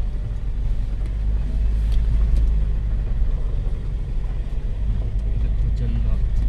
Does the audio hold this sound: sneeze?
no